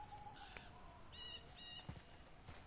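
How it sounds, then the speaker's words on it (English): Birds chirp in the God of War video game, with short, thin high calls scattered over a steady ambient background and no voices. "I mean, I hear birds."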